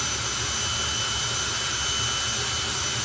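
Two jet dragsters roar side by side at a drag racing festival, a dense, continuous jet-turbine blast with a steady high whine, loud and unbroken throughout.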